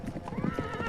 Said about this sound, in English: Something scared off the horses.